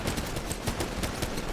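Weapon firing at several locked-on targets in the Titanfall beta, a quick run of closely spaced shots and blasts over a busy, noisy combat background, no speech.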